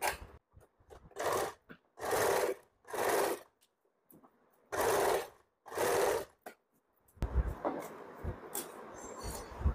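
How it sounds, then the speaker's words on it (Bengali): Sewing machine top-stitching fabric for an umbrella frock, running in several short bursts with pauses between, close up, followed by rustling handling noise. "এরপরে পটিতে আমাকে আরেকটা সেলাই করতে হবে, উপর থেকে এটা চাপ সেলাই দিতে হবে এখান থেকে"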